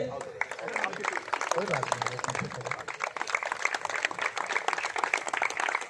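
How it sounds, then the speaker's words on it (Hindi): Crowd clapping at a 74th Independence Day flag-hoisting ceremony held by Sector 24 residents, with rapid, busy hand claps continuing under a voice speaking over them near the start. "जोरदार तालियों से"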